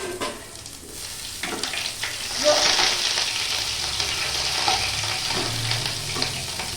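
Garlic frying in hot oil tempered with green chili and black peppercorns, a steady close sizzle throughout with occasional stirring scrapes, swelling louder midway as more goes into the pan.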